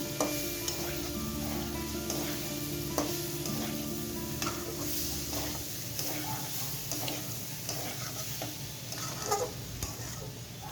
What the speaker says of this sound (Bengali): আমি মশলাগুলো দিয়ে ভালো করে কষিয়ে নিচ্ছি বন্ধুরা।